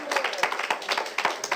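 A church congregation clapping, with scattered cheers, lively irregular claps close by in a short burst.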